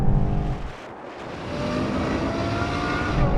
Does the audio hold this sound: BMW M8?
yes